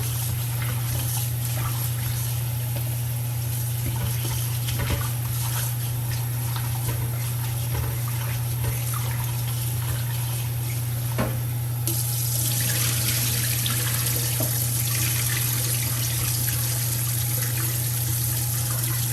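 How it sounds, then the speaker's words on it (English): Tap water runs steadily into a sink while cubed potatoes are rinsed for potato salad, a continuous splashing trickle with a low hum underneath and occasional light knocks. "I'm now gonna go ahead and rinse my potato."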